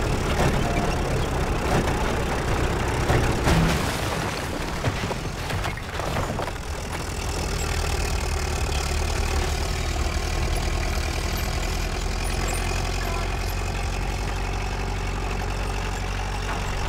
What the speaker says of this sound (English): Heavy tank under the stone arch.